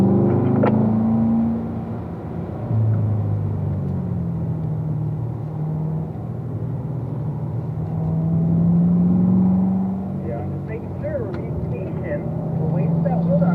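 A race car accelerating on a track toward a corner, its engine drone swelling and easing at moderate loudness, with a voice talking over it.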